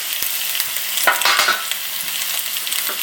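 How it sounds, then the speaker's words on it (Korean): Sliced radish and onion laid into a lightly oiled pan, sizzling loudly and close, with a sharp burst of crackling and a few clacks as the pieces go in, then a steady fry. "먼저 식용유를 살짝 둘러주세요. 어, 그런 다음에 썰어놓은 무와 아, 양파를 밑에 먼저 깔아주세요"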